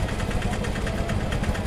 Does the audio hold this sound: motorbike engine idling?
yes